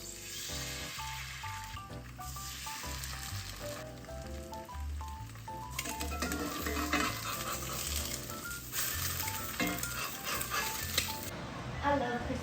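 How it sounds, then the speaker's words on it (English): Food sizzles and crackles in a frying pan while Christmas music plays prominently over it, the frying a steady hiss beneath the song with a few utensil clinks. "It's got a sizzle now."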